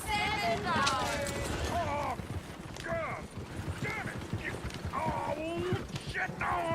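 Horses' hooves clip-clop and gallop in the Red Dead Redemption 2 video game, a busy rhythmic clatter under frequent shouting voices and a dog barking.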